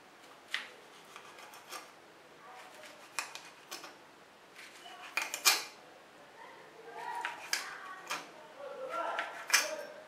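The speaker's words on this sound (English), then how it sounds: "Now I'm cutting the sausage into" A knife cuts sausage into pieces on a board while making hot sausage soup, giving faint, close, irregular slicing scrapes and soft taps in short bursts.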